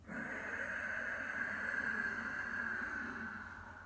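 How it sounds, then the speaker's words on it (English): A steady, raspy ujjayi yoga breath drawn through a constricted throat, soft and close, with a faint whistling hiss sustained over several seconds. "it's raspy, silky, whistling, Ujjayi breath, victorious breath from the back of the throat"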